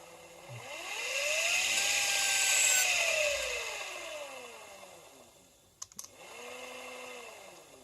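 A small homemade rotary tool with a loose, clicking chuck whines up to high speed, its pitch rising and falling, then briefly cuts out with a clatter before spinning up again.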